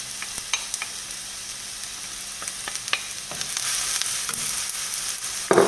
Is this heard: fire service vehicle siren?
no